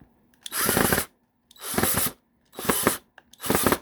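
A power drill drives screws while a Hoover PowerScrub Elite FH50250 carpet deep cleaner is assembled. Four short, whirring bursts are separated by brief pauses, with no voices.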